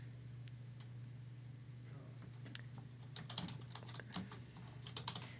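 Typing on a computer keyboard while writing an announcement, soft irregular clicks that pick up into a quicker patter over a steady low hum, quiet and close.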